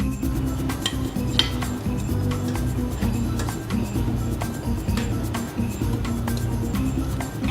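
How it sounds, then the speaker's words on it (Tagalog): Pieces of cooked pork siomai are moved one by one onto a serving dish, with steady clinks and light scrapes of utensils against dishware, close and continuous. "Ngayon, nililipat na natin ito sa serving dish."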